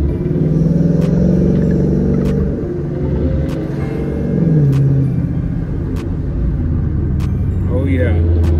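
A 2011 Ford Mustang GT in sport mode, heard from inside the cabin: a steady low engine rumble whose pitch rises and falls as it changes speed, with light clatter and a voice talking over it.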